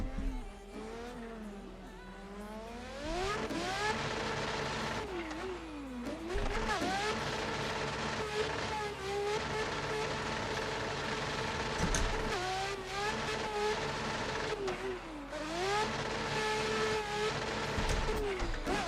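A drift car in a racing video game, its engine held high and bouncing off the rev limiter in rapid repeated cuts, with pitch sweeps as the revs rise and fall, loud and continuous throughout with brief tire squeal.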